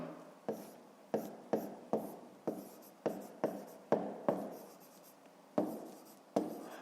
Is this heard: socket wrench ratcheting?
no